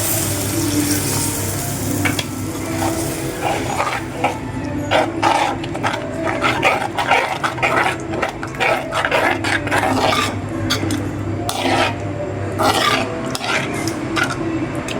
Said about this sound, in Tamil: அந்த பொடியோட பச்சை வாசனை போகிற வரைக்கும் வதக்கிக்கலாம்